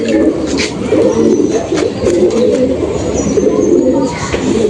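Normal Madras pigeons keep up continuous low cooing, several birds overlapping in a dense murmur, with a voice faintly present.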